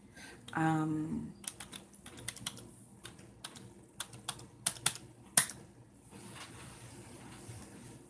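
Typing on a computer keyboard to enter a password, a quick run of sharp, separate key clicks in uneven bursts, close and fairly faint, after a brief low hum at the start and before a quiet room tone.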